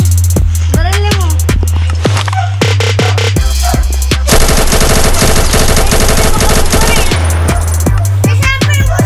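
Rapid automatic gunfire bursts from a Minecraft video game, loud and close, with sharp repeated shots in dense clusters over a steady low game hum and occasional voices.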